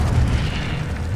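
An Incendio fire spell cast in the Hogwarts Legacy video game gives a loud, dense burst of low rumbling flame that holds steady for about a second, with no other sound over it.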